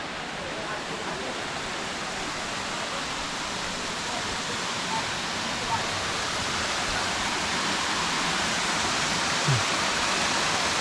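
A small waterfall near Taenu in Ambon pours steadily in a close, loud, unbroken hiss of splashing water that holds evenly throughout.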